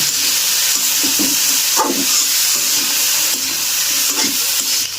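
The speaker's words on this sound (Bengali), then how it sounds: "এবার আমি সব কিছু দিয়ে ভেজে নিব।" Ingredients for chicken pasta frying in a pan, with a loud, continuous sizzle and hiss. Several clattering stirring strokes break through the sizzle, and no one speaks.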